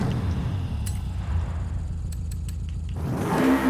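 A turbocharged Subaru Brat engine in Forza Horizon 5 drones steadily at mid pitch, then swells into a louder rev near the end.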